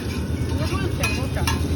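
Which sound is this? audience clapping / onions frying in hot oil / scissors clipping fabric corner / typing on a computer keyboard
onions frying in hot oil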